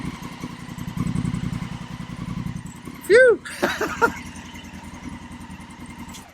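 A damaged Honda Africa Twin motorcycle engine idles with a low, even putter throughout, while someone gives a brief exhaled exclamation and a few sharp clicks sound in the middle.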